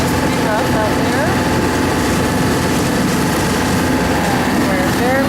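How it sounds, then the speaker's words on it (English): A boat's engine roars steadily against a strong river current below a dam with its spill gates open on the Columbia and Snake River, loud and continuous throughout with rushing water and wind, and a voice faintly audible beneath. "You can hear the engine roar."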